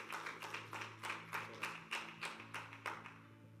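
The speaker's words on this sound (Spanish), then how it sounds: "Damos un aplauso al Señor." A small audience applauding at a Bible study gathering, light scattered claps in quick uneven bursts that build and fade over a few seconds, fairly quiet and without talk.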